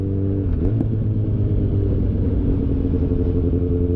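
Steady motorcycle engine rumbling close and loud without pause as the bike is ridden fast downhill, with no speech.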